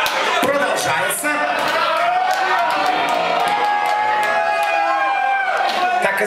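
A concert crowd shouts, whoops and cheers loudly and continuously, close and dense, with individual voices yelling over the roar.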